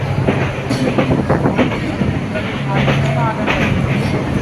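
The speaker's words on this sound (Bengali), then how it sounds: "তো ট্রেন স্টেশনে চলে আসলো।" A train pulls into Rajshahi station, its wheels rumbling and clacking over the rails loud and close, with brakes squealing and a busy platform around it as people talk.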